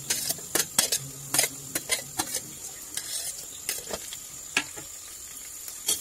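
Green chillies and curry leaves sizzle in hot oil in a pan, with a steady frying hiss broken by sharp clinks and scrapes of a spoon stirring against the metal, close and moderately loud.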